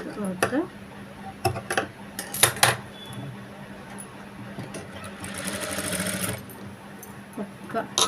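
A sewing machine fitted with a normal presser foot stitches thread piping onto a boat neck in short bursts of rapid mechanical whirring. Scattered clicks and metallic handling noises fall between the bursts, and a voice speaks briefly.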